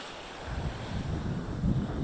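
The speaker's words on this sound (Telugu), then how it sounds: "ఈ అలలు వచ్చి దబ్బేస్తాయి మనకైతే చూడండి ఎంత ఫోర్స్గా వచ్చి కొడతానయో" Sea waves rolling in and breaking on Mypadu beach near Nellore, a steady, broad roar of surf mixed with buffeting wind on the microphone, gently building toward the end.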